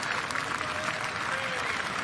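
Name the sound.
home crowd applauding at para athletics long jump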